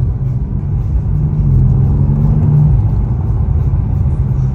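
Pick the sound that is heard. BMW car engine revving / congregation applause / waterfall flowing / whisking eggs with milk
BMW car engine revving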